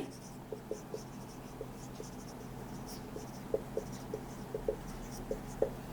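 Writing on a board or paper during a maths lesson: soft, quiet pen or chalk ticks and taps come in small irregular clusters over a faint background hiss.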